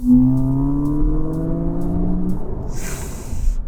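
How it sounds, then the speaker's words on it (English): A smart #1 Brabus electric car in Brabus mode accelerates hard from about 75 km/h. It gives off a rising electric-motor whine with tyre and wind roar that swells steadily, then a brighter hiss toward the end. "I'm going about 75 km per hour now, and I'm gonna put my foot down."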